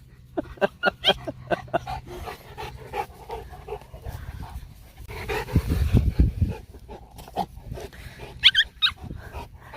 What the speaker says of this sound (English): Again, not my dog. My neighbor's dog.